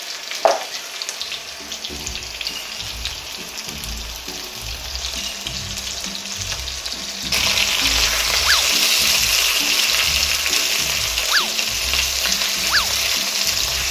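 Beef and potatoes sizzle steadily in a frying pan for a Japanese-style beef and potato stew, a continuous broadband crackle that grows louder partway through, with a few faint clinks over it.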